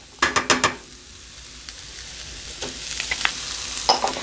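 A few quick clattering knocks open, then onions and tomatoes for a Bahamian stew fish settle into a pot and fry with a gentle sizzle that slowly builds into crackling.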